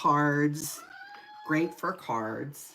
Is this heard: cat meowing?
yes